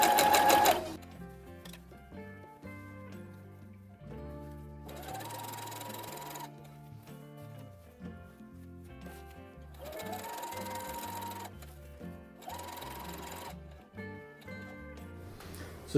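A sewing machine top stitches a zipper on a Star Wars jumpsuit in bursts, its motor whirring and needle clattering in several runs separated by short pauses, fairly close.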